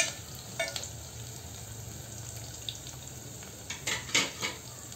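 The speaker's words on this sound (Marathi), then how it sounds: "हा कांदा आता आपला छान परतत आहे।" Onion frying in a pan for a mung and pea saar, a steady low sizzle running throughout with a few brighter clinks and stirring scrapes near the end.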